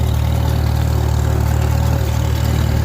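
A Farmall M tractor engine chugs steadily while mowing orchard grass hay, a loud, continuous low rumble with a regular beat holding even throughout, no voices.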